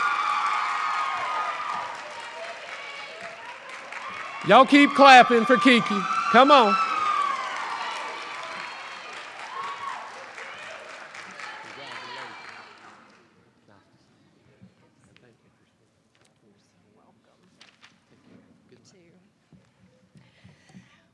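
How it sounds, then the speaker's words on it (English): An audience at a 2024 practical nursing pinning ceremony claps and cheers, with whoops peaking in the middle, then falls abruptly into near silence for the second half, where only faint scattered sounds remain. "Y'all keep clapping for Kiki."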